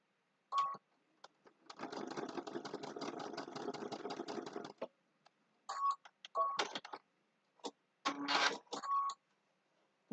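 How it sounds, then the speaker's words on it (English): Sewing machine stitching across a fabric zipper bag, with a sustained run of fast, even mechanical stitching near the mic, followed by several short separate bursts as the seam is turned and sewn again. "I'm gonna turn, and I'm gonna just sew one more time"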